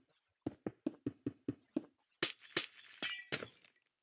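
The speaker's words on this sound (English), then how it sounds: "Oh, that was way louder than I expected." Glass blocks are placed and broken in Minecraft, giving a quick series of about eight short clicks followed by several louder, bright shattering crashes. The sounds are close and clear.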